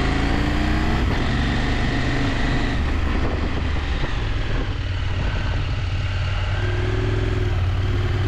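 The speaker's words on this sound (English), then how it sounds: "a loud and highly revving motorcycle with slipping clutch" Motorcycle on hairpin corners, engine revving high with a slipping clutch, a continuous loud drone with rising and falling pitch mixed with wind rush, heard from the rider's position.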